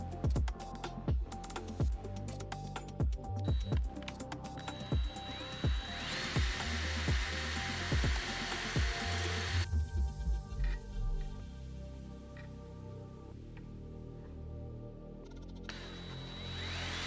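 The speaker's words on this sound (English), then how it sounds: "We'll just drill right through there." A drill bores through a metal mounting bracket, with a string of sharp tapping clicks followed by sustained grinding whines that start, pause and resume, close by with no talking.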